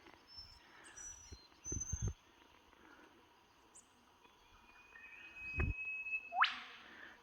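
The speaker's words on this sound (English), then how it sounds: "That is a whipbird, I believe." An eastern whipbird calls in Blue Gum Swamp in the Blue Mountains, a sharp rising whip-crack note near the end, with scattered thin bird chirps and a few soft footsteps or rustles in a quiet bush setting.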